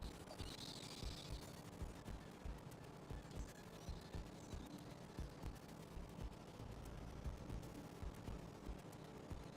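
Video game gunfire crackles in rapid, dense bursts throughout, a steady din of shots and explosions with no voices heard.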